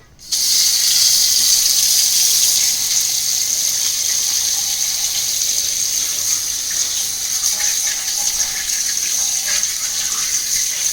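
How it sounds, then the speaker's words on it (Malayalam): Raw chicken, about 3 kg, rinsed in a kitchen sink under a steady running tap: a continuous loud rush of water that starts abruptly and flows on alone without pause. "അപ്പോൾ നമുക്ക് നന്നായിട്ട് കഴുകി ചിക്കൻ ഒന്ന് വൃത്തിയാക്കി എടുക്കാം."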